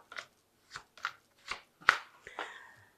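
Oracle and animal tarot cards are shuffled by hand in six quick, crisp riffling bursts, close and fairly quiet, with short pauses between them and no talking.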